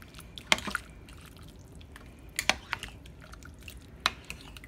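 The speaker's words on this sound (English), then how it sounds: "Let's give that a good stir." A spoon stirs a pot of homemade beans and ham, giving a few wet clinks and scrapes against the pot in three clusters over a low background hum.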